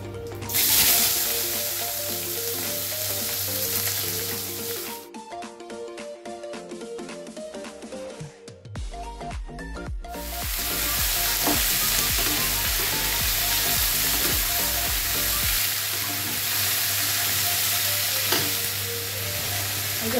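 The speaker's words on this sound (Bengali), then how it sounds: "এবার আমি এই লম্বা লম্বা করে আলু কেটে নিয়েছি আর পেঁয়াজ কেটে নিয়েছি, এগুলো দিয়ে দেবো।" Long-cut potato and onion slices fry in a hot pan, a loud, close, continuous sizzle and crackle with a brief dip midway before it settles back to steady frying.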